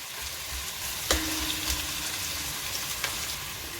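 Onions frying in oil in a pan for beef biryani, a steady close hiss and crackle of sizzling throughout, with a brief clink of a utensil against the pan partway through.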